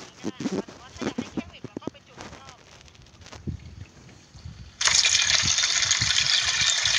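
Running water pours over a chemically dipped brass casting at a Lopburi brass foundry, starting abruptly as a loud, steady gushing rinse after a stretch of people talking nearby.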